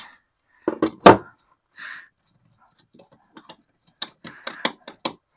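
A ratchet wrench tightens the case bolts on a Holzfforma G440 chainsaw with sharp clicking bursts, a cluster early, then sparse clicks and a quick rhythmic run near the end, close and loud.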